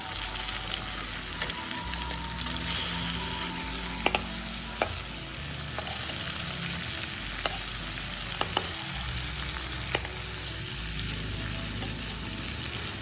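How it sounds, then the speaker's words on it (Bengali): Peeled prawns frying in oil in a pan over a medium-high flame give a steady, dense sizzle throughout, with occasional stirring clicks and no talk. "মিডিয়াম টু হাই ফ্লেমে আমি মাছগুলো একটু হালকা করেই ভাজবো"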